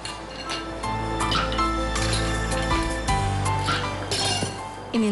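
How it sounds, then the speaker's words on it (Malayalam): Ice cubes tumble and clink into a glass while a green apple or passion fruit mojito is prepared, a busy run of bright glassy knocks and rattles close by, with no talk. "ഇനി നമ്മൾ വീണ്ടും ഐസ് ക്യൂബ്സ്."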